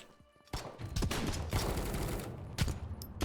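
Rapid gunfire in the video game Potentia, a burst of sharp shots that starts abruptly and runs almost continuously, close and loud, with a few harder cracks standing out.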